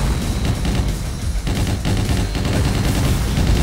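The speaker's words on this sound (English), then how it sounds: "I can't even see who's shooting at me." Dense gunfire rattles continuously in the Hyper Fighters video game, loud rapid shots and bursts layered into a steady barrage aimed at the player.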